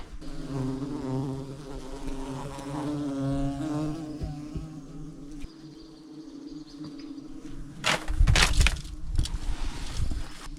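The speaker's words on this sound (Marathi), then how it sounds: "या जागेवर बहुत साऱ्या मधमाशा आहे" A dense, steady buzzing of many honeybees hovering close by at water on a steep trail up Harishchandragad, with a burst of louder rustling and knocking near the end.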